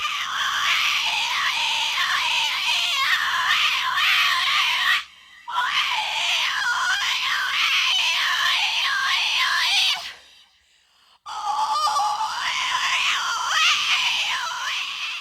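Diamanda Galás's Schrei X, an entirely vocal record, delivers loud, sustained, wavering shrieks with warbling pitch, broken by two abrupt near-silent gaps.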